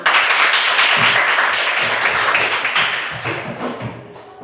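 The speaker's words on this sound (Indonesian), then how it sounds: "Tepuk tangan semua." Group hand clapping in a classroom lesson, students applauding together at close range, dense and loud at first and tapering slightly over a few seconds with no talk over it.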